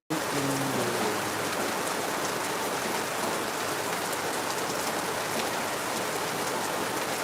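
Steady heavy rainfall in Lagos hisses continuously and close by, a thick wash of drops drumming on surfaces, with a brief faint tonal sound near the start and no voices.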